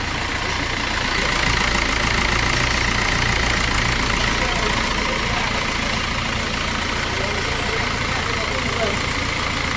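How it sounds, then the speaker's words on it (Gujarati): A Maruti Suzuki Ertiga, overheated earlier and just running again after engine repair, idles with a steady, even mechanical hum throughout, close by, with voices in the background. "અર્ટિકા જે આપણે એન્જિન ગવાડીમાંથી લાવ્યું હતું એ ગાડી ચાલુ થઈ ગઈ છે"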